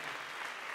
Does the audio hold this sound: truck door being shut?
no